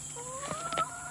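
A chicken gives a short, close cluck with a couple of rising squawks over a steady background hum.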